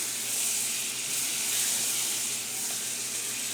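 A knob of butter melting in a hot pan, giving a steady close sizzle with a bright hiss that runs continuously without a break.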